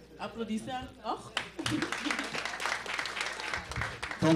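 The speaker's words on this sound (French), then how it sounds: "Applaudissez encore." Applause from a crowd at a live stage show, clapping swelling in after a loud voice and continuing as a busy, fairly close wash mixed with shouting and chatter.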